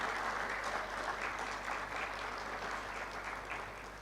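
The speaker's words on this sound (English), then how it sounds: "Can you please stand up, face them, and give them a round of applause?" A dense, steady round of applause from a large seated crowd at a Unisa graduation ceremony in Ethiopia, continuous and slightly distant, tapering gently at the end.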